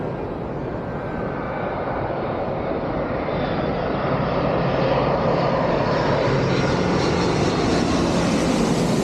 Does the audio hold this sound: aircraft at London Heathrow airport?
yes